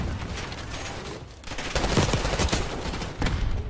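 Explosions and gunfire on the Nuketown map in the first-person shooter Black Ops 6: dense rattling automatic fire with heavy booming blasts, loud and continuous, several bursts overlapping.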